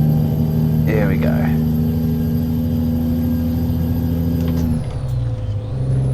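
A simulated 600-horsepower heavy truck engine in American Truck Simulator holds a steady, loud low drone, with a brief voice early on and a shift in tone near the end.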